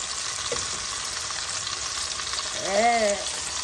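Suadero beef and green onions fry on a griddle with a continuous close, dense sizzle. A brief tonal squeak near the end rises above it, and no words are spoken.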